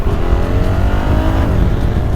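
A 2025 BMW 1300 RT Triple Black motorcycle accelerates hard with a loud, continuous engine roar that climbs in pitch. It is heard close up over the whole stretch, with no voices.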